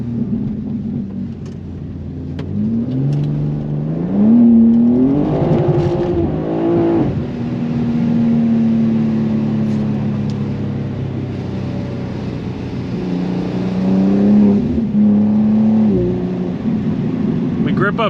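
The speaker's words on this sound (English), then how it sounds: "I'm gonna go ahead and take the car out and enjoy my nice little drive." A 2024 BMW M2 drives on a rainy road, its engine climbing and falling through several revs and gear changes, loud and close from inside the car, with a voice speaking at times.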